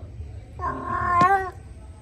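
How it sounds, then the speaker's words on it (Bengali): A single drawn-out tomcat meow outdoors, harmonic and wavering, lasting about a second over low background rumble, fairly close. "এই যে দেখুন বাইরে একটা বিড়াল আসছে, হলো বিড়াল।"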